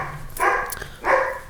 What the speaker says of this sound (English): If you're hearing a dog bark,